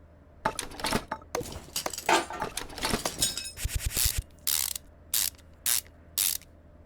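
Ratchet clicking in close, rapid bursts while bolts are loosened to replace an ABS pump, then several short separated ratchet runs near the end.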